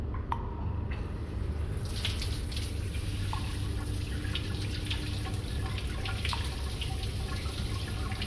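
Steady hiss of a shower running in the video game Deceived of Joy, a continuous broadband spray with scattered droplet ticks, fairly close and constant after a brief quieter start, no voices.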